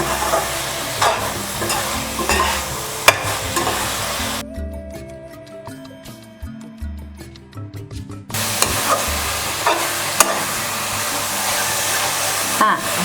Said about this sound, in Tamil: ரெண்டு நிமிஷம் அந்த நெய் எல்லாத்துலேயும் கலரணுங்க. கலந்து எல்லா பக்கமும் சேர்ந்து வரணுங்க.